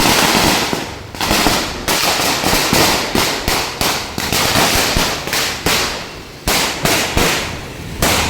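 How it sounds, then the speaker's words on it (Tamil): Rapid strings of firecrackers burst loudly and continuously during an outdoor election day street celebration, with dense crackling pops and brief gaps between volleys. "பட்டாசு வெடிக்கிறாங்க பட்டாசு."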